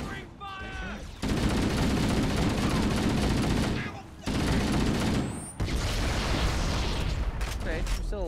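Rapid, dense bursts of covering gunfire in the video game Halo CE on Legendary, loud and sustained across several seconds with brief gaps, mixed with game effects and a voice talking over it.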